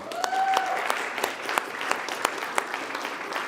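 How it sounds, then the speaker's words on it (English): A church congregation gives a round of applause, with individual claps standing out sharply against a spread of lighter clapping and a brief tone at the start. "If we get a round of applause going for Sam."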